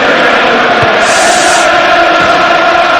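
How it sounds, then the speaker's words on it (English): A packed football stadium crowd roars steadily at Dennis Bergkamp's goal for Arsenal against Everton, a loud, unbroken wash of cheering with a surge partway through. "And listen to the reaction from the crowd here."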